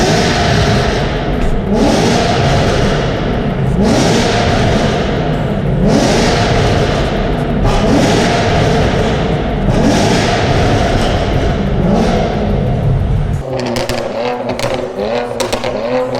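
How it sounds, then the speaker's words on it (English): Several cars rev their engines inside a tunnel at a car meet, loud, repeated surging roars echoing off the walls in waves, ending with a lower, rumbling idle and clatter. "People are just in there revving their cars"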